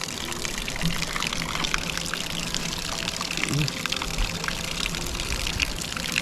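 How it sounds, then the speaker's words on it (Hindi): Hot spring water pouring out of the ground near Kalpeshwar Temple in Uttarakhand, a steady close splashing flow heard continuously under faint background voices. "ये सारा गर्म पानी निकल रहा है यहाँ से"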